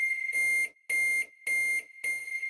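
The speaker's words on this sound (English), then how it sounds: "Got this microwave timer." Four evenly spaced electronic beeps, each a sustained high tone lasting about half a second with short gaps, clear and close with no talking.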